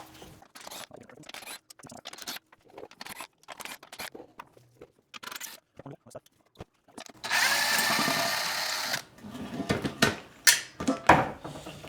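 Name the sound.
power tool removing crash bar bolts on Camaro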